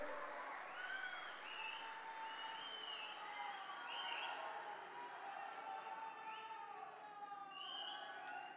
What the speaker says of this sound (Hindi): आप जोर से ताली बजाइए राणे साहब के लिए